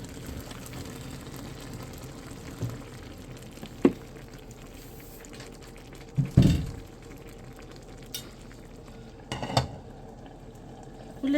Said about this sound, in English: Let this cook for about 10 minutes or so.